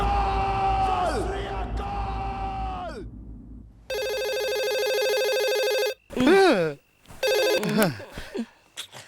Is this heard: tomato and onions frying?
no